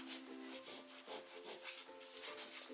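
Paint being rubbed off the face of a classical oil portrait on canvas: repeated close, soft scrubbing strokes in a steady rhythm, with no voices.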